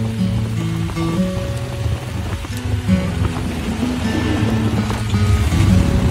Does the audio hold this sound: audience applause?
no